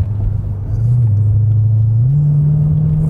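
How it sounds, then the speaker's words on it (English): A 2020 Dodge Challenger Scat Pack Widebody with the 392 V8 idling nearby, a loud, deep steady rumble whose pitch steps up slightly partway through as the revs rise a touch. "There's just something to be said about the raw sound of a V8"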